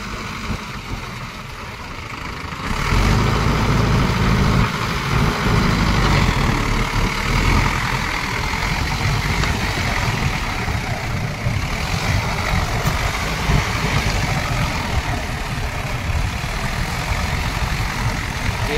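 A Mahindra Yuvo Tech+ 575 DI 4x4 or Swaraj 744 FE 4x4 tractor engine running in a muddy paddy field, a continuous loud diesel rumble that rises after a few seconds and holds steady.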